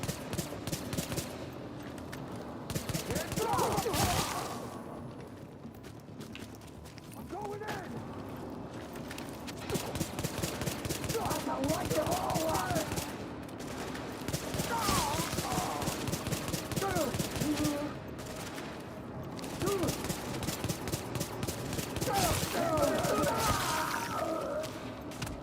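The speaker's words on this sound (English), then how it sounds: "Dirty headshot sound with this global event." Repeated sharp headshot gunfire during a global event in The Division, with dense bursts of shots and mechanical clicks recurring throughout at steady volume, and faint talk underneath.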